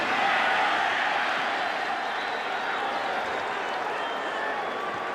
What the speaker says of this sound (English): The crowd's expressing their uneasiness